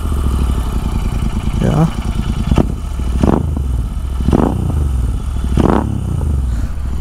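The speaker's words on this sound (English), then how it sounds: "let me show you how this bike sounds. Okay, startup sound, let me just show it to you." A Royal Enfield Interceptor 650 fitted with Red Rooster exhausts, its parallel-twin engine starting up and idling with a loud, low rumble, several sharp throttle blips rising and falling, and a brief spoken word over it.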